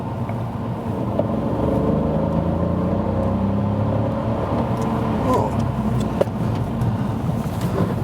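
A 2017/2018 Kia Rio Platinum with a 1.0 T-GDI 120 hp turbo petrol engine accelerates on a test drive, its engine note rising steadily through the gears over road and wind noise inside the cabin.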